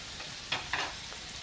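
Chicken thighs with fresh chilli and curry paste fry in a pan, a faint low sizzle carrying two quick scraping stirs in a brief moment, without speech.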